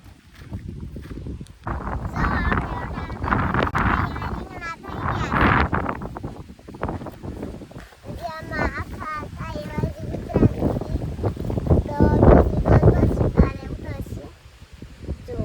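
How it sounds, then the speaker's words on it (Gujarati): Strong gusts buffet the microphone in a brinjal field during harvesting and weeding, making a low, uneven rumble that rises and falls beneath people talking. "પવન બહુ છે એટલે અવાજ આવે તો આવે."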